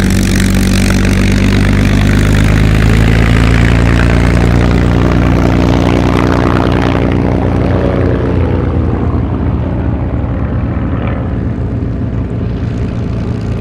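P-51 Mustang propeller fighters at an air show produce a loud, continuous roaring piston engine drone that shifts slowly in pitch as they pass, filling the whole stretch without any voices.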